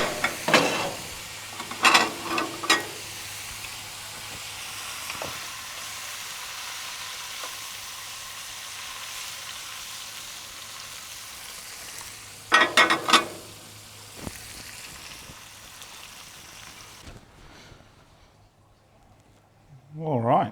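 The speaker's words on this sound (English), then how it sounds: "I'm just going to throw some chips in here, cook them up" Chips fry in a pan after crab has been cooked, a steady soft sizzle running throughout, with bursts of louder scraping and clatter near the start and middle and a fade toward the end.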